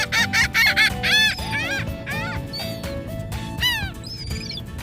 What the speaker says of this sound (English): You wanna see these birds, Baba?